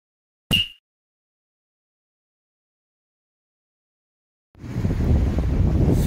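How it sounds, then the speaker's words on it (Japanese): Fairly strong wind by the sea on Ishigaki Island, first as a brief gust and then as a steady, loud rush that buffets the microphone over the last second and a half after a long stretch of silence. "今日の天気は曇り、風はやや強め。"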